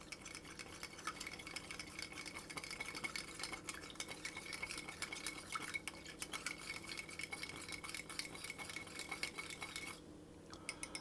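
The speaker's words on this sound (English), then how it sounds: "I'm going to mix that together" Quiet, steady scraping and clinking of a utensil working through a mixture in a pan, faint and continuous with a soft sizzle underneath.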